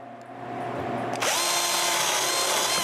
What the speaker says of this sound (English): I begin by routing a key into a scrap piece of plywood